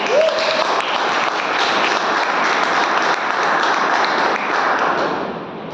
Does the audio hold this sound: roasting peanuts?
no